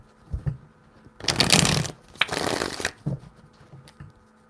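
Tarot cards are shuffled in two brisk, rustling bursts of a second or so each, close and clear, with brief quiet gaps and small taps around them.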